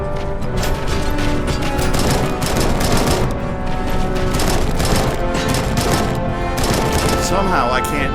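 AK rifle gunfire in the video game Robocop: Rogue City, a loud, dense combat mix of repeated shots and impacts that runs continuously throughout without a break.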